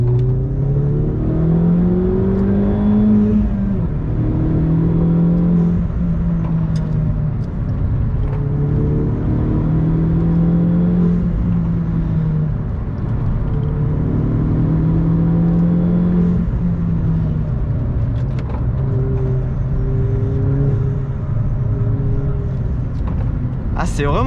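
The engine of a 2011 Opel Corsa GSI with a Stage 1 tune drones steadily as it accelerates on the road, rising and falling in waves, while someone talks over it throughout.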